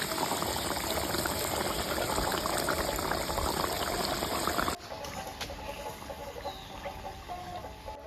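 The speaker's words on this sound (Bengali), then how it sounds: "গরম মশলা দিয়ে ডিমের কারিটা 5 মিনিট জাল করে নিলাম।" Egg curry with garam masala simmering in a pot, a continuous busy bubbling that drops to a quieter, thinner simmer midway.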